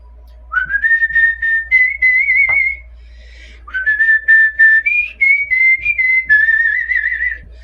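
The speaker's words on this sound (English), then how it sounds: "this is what I'm whistling tunelessly" Someone whistles a wandering, tuneless melody in two phrases with a short pause between them, close and clear.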